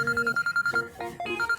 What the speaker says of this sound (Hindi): दिखाओ मुझे किसका फोन आ रहा है।